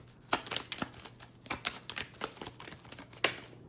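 A rapid series of crisp riffles and snaps as tarot cards are shuffled close up, about a dozen sharp bursts in uneven rhythm with no talking.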